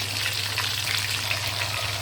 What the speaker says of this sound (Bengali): তো আমি আস্তে আস্তে ভেজে নিব।